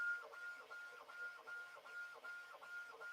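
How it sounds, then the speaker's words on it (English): A 3D printer at work, its stepper motors giving a regular, repeating whine in short pulses at a steady rhythm, moderately close and alone. "The 3D printer I'm running now should take about 2 hours."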